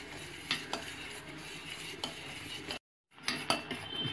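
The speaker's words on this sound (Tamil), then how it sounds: "இது நல்லா வந்து கலக்கி விடணும்." Pearl millet flour porridge being stirred in a pot, a spoon scraping and clinking against the metal in close, repeated strokes, with a brief silent gap before the stirring resumes.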